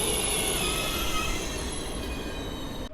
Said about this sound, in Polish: Jedzie kolejny dziobak, tym razem do Gliwic.